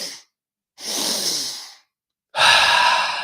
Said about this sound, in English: Let's take 3 more breaths.